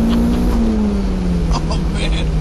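A turbocharged car engine pulls hard under boost, its steady droning tone sliding slowly as it accelerates loudly, with a voice briefly over it.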